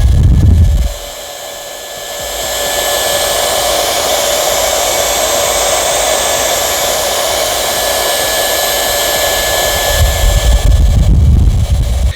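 A battery-powered compressed-air duster blows with a loud, steady whooshing roar that spins up after a short pause and holds for several seconds, then rises again near the end, heard alone and close.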